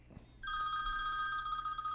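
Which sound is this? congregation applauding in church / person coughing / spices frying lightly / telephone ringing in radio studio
telephone ringing in radio studio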